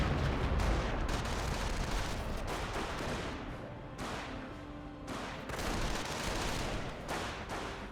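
Sustained gunfire and artillery in a Company of Heroes 1 battle between US and Panzer Elite forces, dense crackling shots and booming blasts rolling continuously with brief lulls, loud and close throughout.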